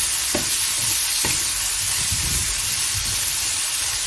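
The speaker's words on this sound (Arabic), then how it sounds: "رح نبلش نضيف عليها الحمص ونقلب فيها لحتى تاخد اللون اللي بدنا اياه" Chickpeas stirred in hot olive oil in a pan, a steady frying sizzle with a few sharp scraping strokes of the spoon, close and alone with no voices.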